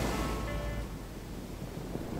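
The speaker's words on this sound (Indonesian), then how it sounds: "Ombak berdebur keras dan angin juga makin kencang" Surf on the black-sand beach of Parangtritis, heard as a steady, loud wash of breaking waves with wind roar, fairly constant throughout with no talk.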